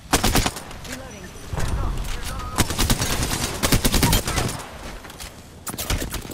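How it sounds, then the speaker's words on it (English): Rapid gunfire in the Apex Legends video game, dense bursts of automatic shots firing close and loud across the whole stretch, with game noise and brief voice lines in between. "Getting shot at"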